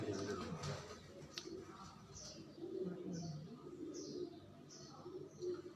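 Rare pigeons coo on a rooftop, a few soft repeated calls near and far over steady background noise, with some higher chirps mixed in.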